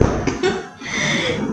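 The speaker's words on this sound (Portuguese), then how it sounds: "Não tem moto, mas tem tosse." A woman coughs a few times close to the microphone, rough and breathy bursts that run into a chuckle, with no other sound around them.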